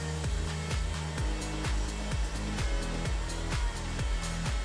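A vacuum cleaner extracts dust from a homemade lathe built from a power drill, giving a loud, steady whooshing roar with a regular pulsing waver close by and no talk.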